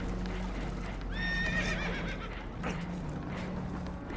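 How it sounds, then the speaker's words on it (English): Spooked horses in the Red Dead Redemption 2 video game give a loud, shrill whinny with a falling, wavering pitch over steady hooves and rushing water, followed by a second, shorter neigh. "Horses are spooked, and we're taking on water"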